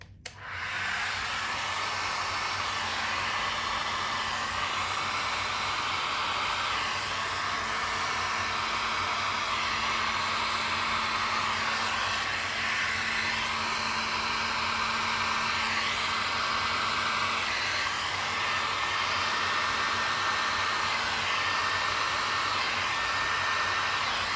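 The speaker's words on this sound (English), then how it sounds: "I will put on my heat gun and make it a little bit warm so it spread a little bit easier" A heat gun blows continuously and loudly, a steady close whooshing roar lasting the whole time, as it warms freshly poured epoxy resin with white pigment paste so it spreads more easily.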